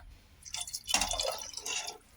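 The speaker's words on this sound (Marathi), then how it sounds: "आता त्याच्यात पाणी टाकूया" Water splashes and trickles into a pan of moong and cowpea curry in a short, bright pour, with dripping and sloshing up close and no voices.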